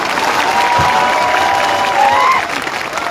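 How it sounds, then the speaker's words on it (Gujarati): Applause and crowd noise at a political rally in Tharad, welcoming new members joining Congress from the BJP, a steady dense wash of clapping with a faint tonal whine running through it. "તાળીઓના ગગડાટથી સ્વાગત"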